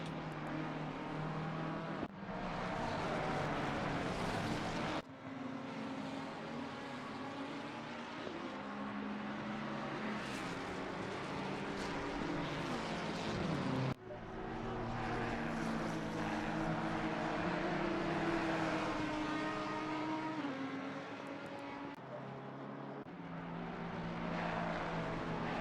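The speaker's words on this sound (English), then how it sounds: "we've seen into the pit lane goes Bacala in the number 18, the Ferrari 488 GT3 Evo" Ferrari 488 GT3 Evo and other GT3 racing cars roar around Brands Hatch circuit, engines loud and continuous with rising and falling passes and gear changes, several cars overlapping throughout without pause.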